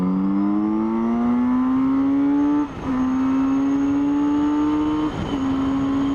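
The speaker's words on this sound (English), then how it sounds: "Crazy, powerful, fast motorbike." A Kawasaki Z900RS motorcycle engine revs up hard and loud, its pitch climbing steadily through two quick gear changes that briefly dip the sound before it pulls again, with no voices over it.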